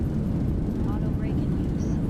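In a flight simulator with the Zibo mod, an airliner on its landing rollout at Prague roars with reverse thrust, a loud, steady, broadband rumble that fills the whole moment.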